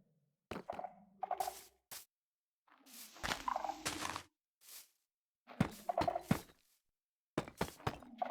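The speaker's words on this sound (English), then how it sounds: "Hope you're enjoying the skulk sensor sound effect." Chirpy sculk sensor effects from a Minecraft-style block game, heard as several short clustered bursts of clicks and warbling chirps separated by silent gaps, fairly faint overall.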